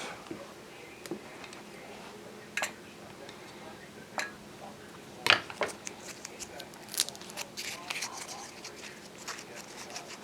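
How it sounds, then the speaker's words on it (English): Scissors snip through pieces of salt water taffy in a series of sharp, irregular clicks and cuts, close and moderately faint over a quiet room background. "I'm going to cut these in fourths."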